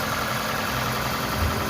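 A repaired 2AZ engine in a Toyota Camry hybrid, running without a catalyst, idles with a steady, even hum heard close up, with no voices over it during this brief stretch.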